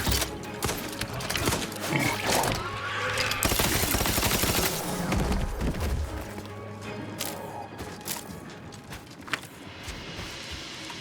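Gunfire and missile blasts from The Outer Worlds video game: a dense, continuous fusillade of rapid shots and booming explosions, loud throughout with heavy crashing impacts and no talk.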